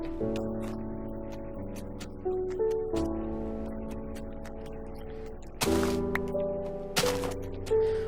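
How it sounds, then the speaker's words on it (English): Eerie ambient cave noise in a video game: low sustained drones and tones shifting slowly, broken by a couple of sudden brighter swells, with no talk. "Ah, spooky cave noise."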